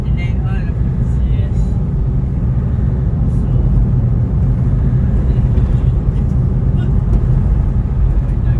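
A long line of trucks and private vehicles backs up at Matnog port in Sorsogon, and the idling engines make a constant loud rumble with no break.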